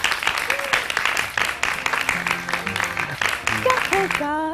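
Studio audience applause on a Hindi morning television show, a bright patter of clapping with music tones rising underneath and rising tones at the end.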